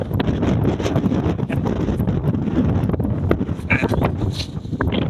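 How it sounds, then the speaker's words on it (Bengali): Strong wind by the Teesta river, buffeting the microphone in a steady rumbling gust with brief clicks and scattered faint sounds in the background, no voices. "দেখেন বাতাস কিরকম"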